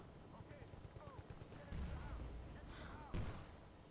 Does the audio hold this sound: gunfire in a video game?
yes